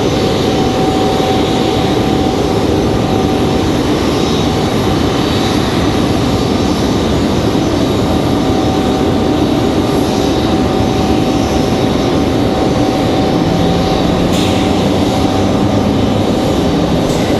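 Airliner taxiing on a taxiway at Raleigh-Durham International Airport, a steady moderately distant engine rumble and whine holding throughout with constant broadband roar and no speech.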